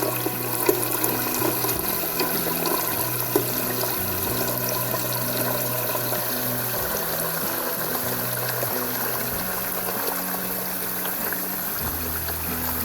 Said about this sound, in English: I have this on the hottest setting so it'll boil quicker than if I just boiled cold water. So I'm gonna wait till this fills up.